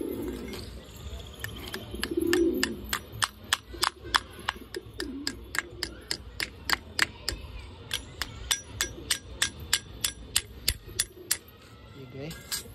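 Rapid, evenly spaced hammer blows ring out sharp and metallic, around three per second, while something is fitted near young Aseel chickens; faint bird calls and low background noise sit underneath.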